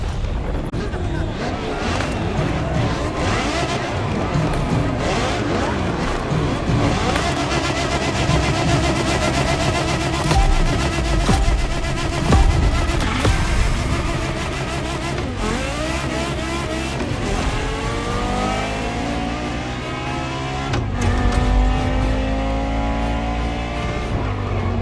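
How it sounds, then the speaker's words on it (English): A Porsche Carrera GT races in The Crew Motorfest, its engine revving loud and continuous with rising and falling pitch sweeps as it accelerates through gears, a steady close roar with occasional tire squeal. "I was about to see Porsche as never before, with a special focus on the Porsche Carrera GT"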